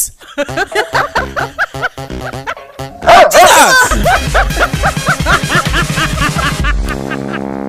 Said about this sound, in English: Emmanuel, this dog will not bite you